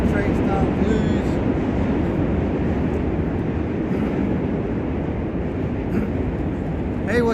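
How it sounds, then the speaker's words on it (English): In New York City, near the Brooklyn Heights Promenade and Dumbo, a train rumbles past with a steady, loud, broadband roar throughout. A person talks over it. "Yo, what's up with the train? Let the train stop, please."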